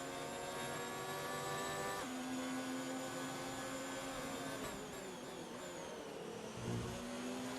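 A sim racing game's rally car engine holds a high, droning whine that climbs steadily through each gear and drops with every upshift, loud and continuous with no voices.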